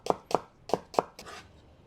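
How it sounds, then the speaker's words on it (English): A knife chops through a halved red onion on a board, cutting thin slices in four sharp, evenly spaced strokes, then one softer cut, close and clear with no talk. "1 red onion. Slice it into thin slices. Half it first. Slice it thinly."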